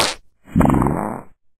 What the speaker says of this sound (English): here we've got mass fart